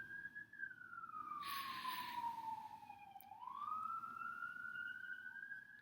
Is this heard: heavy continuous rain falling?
no